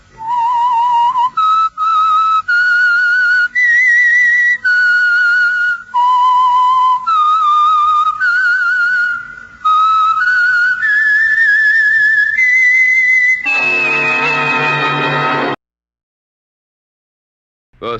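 A solo whistler carries the theme tune of the radio mystery show The Whistler, a lonely melody of sustained, gliding notes that ends in a brief full orchestral chord before silence.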